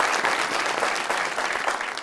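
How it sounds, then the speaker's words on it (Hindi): Studio audience applauding a legendary performer on a talk show, a dense, steady wash of clapping from many hands throughout, fairly loud and with no voices on top. "उनके लिए तालियां बजा दें"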